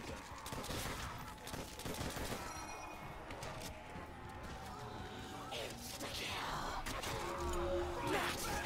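Rapid gunfire from a weapon boosted by the Double Tap perk in Call of Duty: World at War Zombies, firing twice as fast. Dense volleys of shots continue steadily throughout, mixed with game noise and talking.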